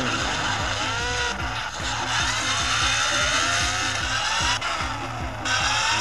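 A police motorcycle in a cartoon revs over and over in quick rising and falling sweeps, loud and close, with a squealing, racing-style whine layered above the engine.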